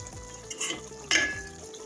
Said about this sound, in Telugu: కొద్దిగా మసాలా, యాడ్ చేసుకొని కొద్దిగా కలుపుకోవాలి.